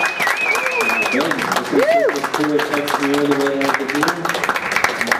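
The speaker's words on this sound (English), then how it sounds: "One more round of applause, ladies and gentlemen, for our very first competitor today" A crowd at the 2012 Tasmanian Barista Championship gives steady applause for the first competitor. Dense clapping runs throughout beneath someone speaking over it.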